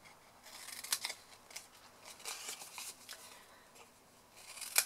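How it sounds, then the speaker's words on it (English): Scissors snipping paper into wedge-shaped corners while making a chocolate bunny basket craft, a few crisp, quiet cuts spaced irregularly, with a sharper snip near the end, close up in a quiet room. "we're literally just cutting all 4 corners"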